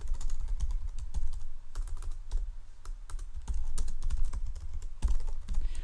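Fast, continuous typing on a computer keyboard, dense clattering keystrokes running without a break for several seconds, close and fairly loud, with no speech.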